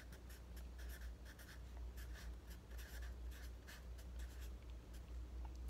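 A pen scratches across paper in short, rhythmic strokes as fun facts are written down, quiet and close with small pauses between the words.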